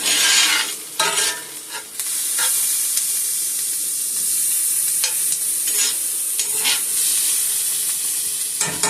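Steady loud sizzling of green peppers and onions sautéing in a hot pan, with occasional scraping stirs breaking through the continuous hiss.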